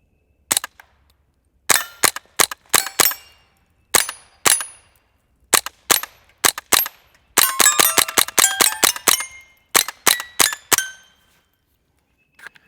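Suppressed gunshots from a Gemtech Integra firing CCI standard velocity ammunition: a string of sharp, close cracks with a metallic ring, some single and spaced, others in quick bursts, separated by near silence.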